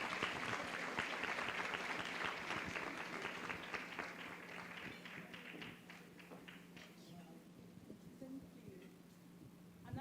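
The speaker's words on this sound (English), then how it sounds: "Another round of applause." Audience applause at a brand awards launch event in Kenya: sustained clapping from a crowd, loud at first and gradually thinning and fading over ten seconds, with faint voices underneath.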